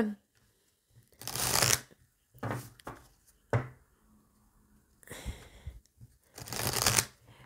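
Oracle cards are shuffled by hand in a handful of short, crisp riffling bursts separated by quiet gaps, close and fairly soft.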